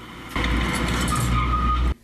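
A fleeing drug suspect's car roars and skids as it rams a police unmarked car during a roadside check in Taiwan. The loud, harsh burst lasts under two seconds and stops abruptly.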